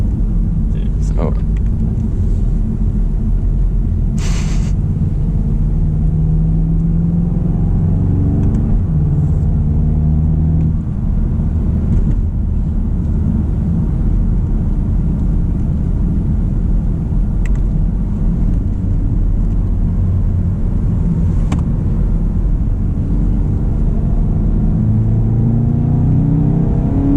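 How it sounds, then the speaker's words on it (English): A deep, droning engine rumble with throaty exhaust tone, partly piped-in sound, runs throughout, rising and falling as a 2024 Volkswagen GTI with dual-clutch transmission accelerates, heard from inside the cabin. "This car actually does have pumped in exhaust sound"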